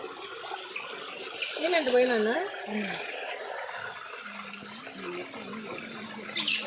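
Water pours and splashes in a steady rush close by at the Kala Bhairava temple in Srikalahasti while a voice talks over it.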